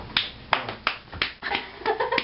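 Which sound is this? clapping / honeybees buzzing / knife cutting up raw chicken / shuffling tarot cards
clapping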